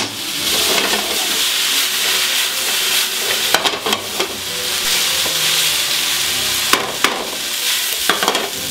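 Spiced Indian-style chicken pieces sizzle loudly and steadily in a hot pan, with occasional scraping knocks as a spatula stirs them.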